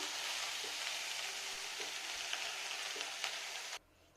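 Vegetables sizzle steadily in mustard oil in a kadhai, a dense continuous frying hiss that runs loud and close for nearly four seconds before cutting off abruptly.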